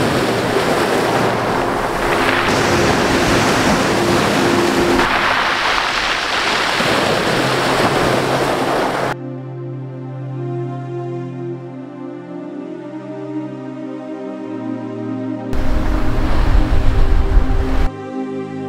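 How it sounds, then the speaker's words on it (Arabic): Sea waves on a hidden beach between mountains near Jebha, Morocco: loud, steady surf and wind roar for about nine seconds, then a quieter stretch with a low hum, then a brief loud burst of surf again. "ودابا وصلت لهاد البحر هذا الواعر اللي مخبع ما بين الجبال"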